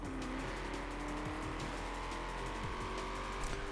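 Racing car in Forza Horizon 4 under full throttle, a loud continuous engine roar with rising pitch sweeps through gear changes, close and unbroken throughout.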